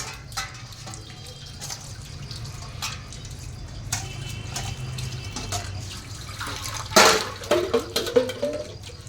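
Tap water runs steadily into a sink while dishes are washed, with dripping and splashing, light clinks of utensils and a louder burst of splashing near the end.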